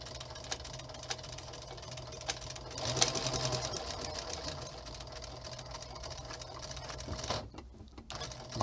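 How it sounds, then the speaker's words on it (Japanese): A treadle-operated sewing machine runs steadily and close by with a continuous mechanical whir and rapid ticking, briefly louder midway and easing near the end, no talking. "このミシンはな、これを見るのが一番わかりますよね"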